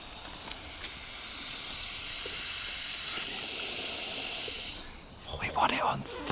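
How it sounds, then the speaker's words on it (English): Water rushing through a pipe just after a stopcock is turned on during a garden room build, a steady hiss that holds for about five seconds before a brief louder gush near the end. "Can you hear water?"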